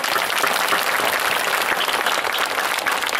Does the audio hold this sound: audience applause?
yes